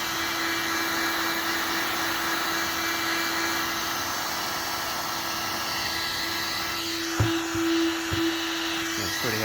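A heat gun blows steadily on a painted car bumper to lift a bird-dropping mark, a constant close whooshing drone with a fixed tonal hum, broken near the end by a few light knocks and handling sounds.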